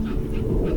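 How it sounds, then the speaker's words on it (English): A dog in the video game That Dragon, Cancer gives a short, close whimpering yip, brief and alone with no talk. "That is a dog."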